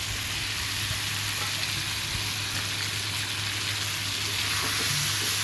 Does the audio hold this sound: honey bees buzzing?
no